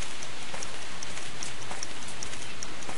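Steady rain patters in a video game, a dense continuous hiss of drops with faint scattered ticks, constant in level and with no voices.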